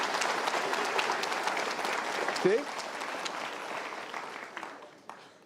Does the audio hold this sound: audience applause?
yes